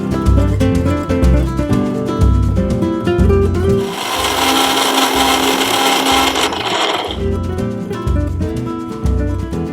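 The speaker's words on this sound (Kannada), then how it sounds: "ಈ ಮೂರನ್ನು ಹಾಕಿ ಮಿಕ್ಸಿ ಜಾರ್ನಲ್ಲಿ ಕಂಪ್ಲೀಟ್ ಆಗಿ ಪೇಸ್ಟ್ ರೀತಿ ಮಾಡ್ಕೊಳ್ಳೋಣ" Loud mixer grinder whirring in bursts as a face-pack paste is blended in the mixer jar, with a steady broadband blending roar in the middle, starting and stopping around it.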